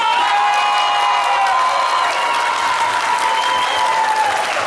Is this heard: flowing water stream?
no